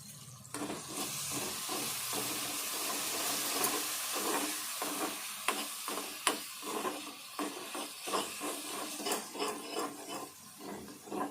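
Sorrel leaf stems fry and get stirred in an oiled pan for a chutney, a steady close sizzle and hiss broken by repeated scraping and stirring knocks, with no voices.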